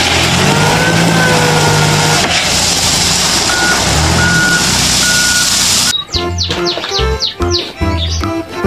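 Toy backhoe bulldozer reversing beeps: a steady electronic tone repeating in a loud, even rhythm over a busy background for about six seconds, then giving way to brief bird-like chirps.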